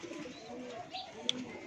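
A pigeon, one of an old breed kept on a rooftop, gives a soft, low, faint coo over a brief quiet stretch.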